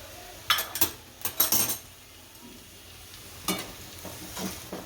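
A spoon scrapes and clinks in a pan as green peas are gently folded into a spiced sandwich masala filling, a few soft, close stirring strokes spaced across a quiet background.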